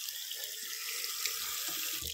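Cold water runs from a newly replaced hand-wash basin tap, a strong, steady hiss of flowing water close to the microphone that cuts off at the end.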